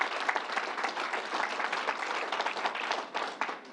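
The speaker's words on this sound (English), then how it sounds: "Let's give him a round of applause" Audience applause fills a gathering at a fairgrounds distribution site, steady and dense with many hands clapping at once, sustained throughout at moderate distance with no talk over it.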